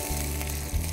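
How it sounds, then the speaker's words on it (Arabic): Minced garlic sizzles steadily in a hot pan for Spanish paella, a loud, continuous close frying hiss with a brief stir near the end and no voices. "هلأ راح أضيف الثوم"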